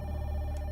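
A telephone ringing in the horror video game Five Nights with Froggy: a steady, sustained ringing tone over a low hum, continuous and fairly loud for under a second, with no talk.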